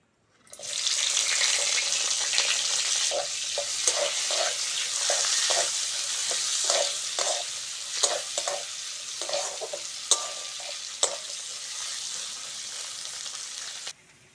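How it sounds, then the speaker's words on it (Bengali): Onion and green chili frying in a pan, a steady loud sizzle close by with repeated scraping of a spatula stirring through it, running for most of the stretch before cutting off. "পেঁয়াজ কাঁচা লঙ্কাটা ভালো করে ভেজে নিয়েছি"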